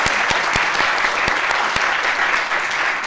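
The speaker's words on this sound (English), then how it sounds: "I have a pause in here for a hand clap." An audience applauds at a school board meeting honoring a kindergarten teacher of the year, a steady wash of many hands clapping throughout with a few sharper near claps standing out.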